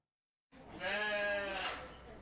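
A ewe bleats once, a long wavering cry that is close and clear and heard alone, in a pen at a sheep-handling competition for young shepherds at an agricultural school in Yvetot.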